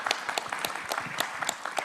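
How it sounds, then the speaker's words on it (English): A small audience claps at a renewable energy conference, a steady scatter of individual hand claps with sharp, distinct strikes at moderate distance, fairly sparse and uneven rather than a dense roar. "Big round of applause."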